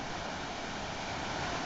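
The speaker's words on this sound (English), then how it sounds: "there's a rapid right close to us. We can hear the water" A river rapid rushing beside a canal hiking trail, a loud, continuous broadband roar of fast-flowing water close by, unbroken and steady with no voices over it.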